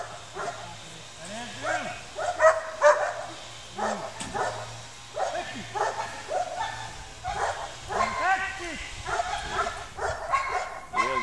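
A guard dog barks repeatedly during guard dog training, loud close barks in an irregular rhythm with some whimpers mixed in, while people talk throughout.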